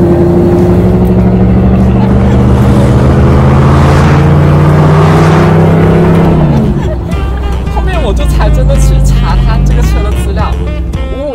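Supercharged Mercedes-AMG SL V8 with over 500 horsepower, revving loudly and close up with a strong steady engine roar, then easing off as a voice talks over it.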